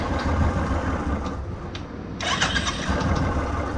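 A Royal Enfield motorcycle cranks on its electric self-starter and catches, the engine running as a steady mid-pitched drone with a brief dip in the middle before revving back up close by.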